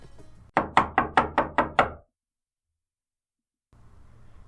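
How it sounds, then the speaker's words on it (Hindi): Seven quick, loud knocks on a door sound in an even rhythm during a narrated story, followed by silence and then a soft room tone. "तभी दरवाजे पर दस्तक हुई।"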